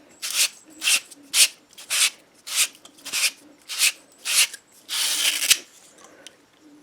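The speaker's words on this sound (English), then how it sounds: "after you deburr the inside, you want to use this tool to clean the outside" Abrasive tool rubbed around the outside of a new copper pipe before soldering, a series of about nine close, rhythmic scraping strokes, the last one longer and sustained, with no talking.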